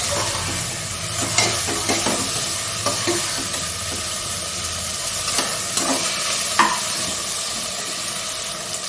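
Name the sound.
onion, tomato and mutton fat stir-frying in pan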